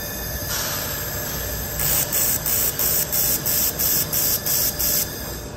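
An 800-watt pulsed laser welder firing about three pulses per second, a steady hiss with rhythmic bright bursts repeating evenly, close and fairly loud, with no talk.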